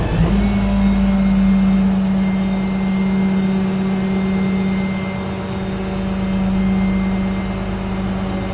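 A car with a suspected electrical fault idles steadily and loudly throughout, its engine hum continuous with mild swells suggesting light revving, alone with no talk.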